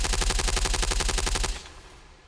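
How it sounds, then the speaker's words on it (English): A rapid, sustained burst of machine-gun fire, loud and close, rattling evenly for about a second and a half before cutting off into a fading echo. "one SAS soldier is hit by a wild spray of gunfire"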